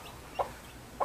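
Chickens on a rural homestead give two short clucks about half a second apart, close and moderately loud above a faint background hum.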